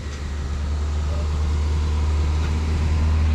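A 1983 Toyota Corolla wagon engine idles steadily nearby, a low continuous rumble holding even for the whole stretch with no revving.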